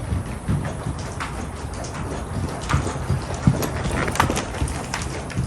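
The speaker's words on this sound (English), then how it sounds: "So he's loping around in a circle" Hoofbeats of a Quarter Horse loping in a circle, a steady rhythmic clip-clop of hooves on the ground, fairly close, continuous over outdoor background noise.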